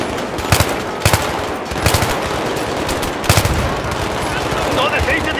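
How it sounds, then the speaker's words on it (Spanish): Battlefield 3 gameplay gunfire: sustained automatic rifle bursts with sharp repeated shot clusters roughly every second, loud and close, over a constant din of distant battle. "¡No dejéis de disparar! ¡Recibiendo fuego a las 12!"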